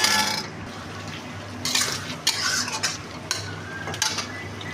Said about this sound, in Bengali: এরপর মশলাটাকে ভালো করে ভেজে নেব তেল ছাড়া অবধি।